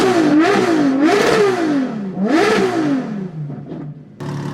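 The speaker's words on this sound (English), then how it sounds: "World's first rev of an exhaust LaFerrari." A modified LaFerrari fitted with an FXXK exhaust revs hard up close, about three loud swelling blips that climb and fall back, followed by a rough idle crackle.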